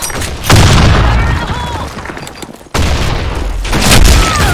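A grenade blast in a video game lands as a loud, booming double explosion, the first heavy thump fading before a second sharp blast, mixed with gunfire and a voice talking.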